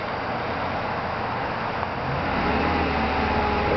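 A 1997 Mercedes S600 coupe (W140) engine rises in revs, a steady low broadband drone that grows slightly louder in the second half, heard alone.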